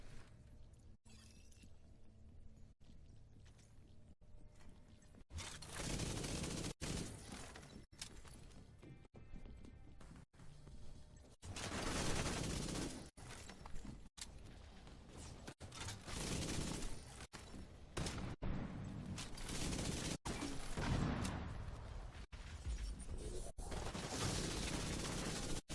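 Rapid bursts of gunfire from The Division 2 video game, sharp repeated shots clustered in volleys with brief gaps, loud and close throughout, mixed with game effects and occasional voices.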